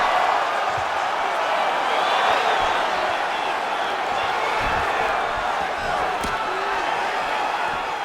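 A steady arena crowd roar fills a simulated UFC 5 fight between Robert Whittaker and Reinier de Ridder, loud and continuous with faint thuds and swells of cheering, no clear talk on top.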